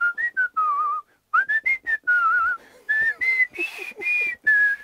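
A human whistles a melody in short clear phrases with gliding pitch and brief pauses between notes, close and loud, with nothing else heard.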